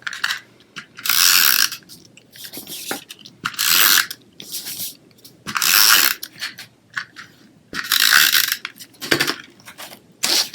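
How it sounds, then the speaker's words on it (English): A snail adhesive tape runner is pulled across card stock in about six quick strokes, each a close, crisp burst of ratcheting, rolling clicks separated by short quiet gaps and light handling taps. "I'm going to come in with my snail adhesive"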